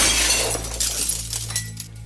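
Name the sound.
stone window glass shattering, story sound effect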